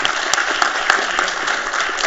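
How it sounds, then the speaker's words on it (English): Audience applause at a quiz competition grand final, a steady wash of many hands clapping throughout, fairly loud and continuous with no talk over it. "I think everyone needs a round of applause for that"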